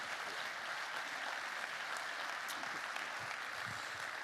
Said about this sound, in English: So a huge round of applause, please, to every single one of our openers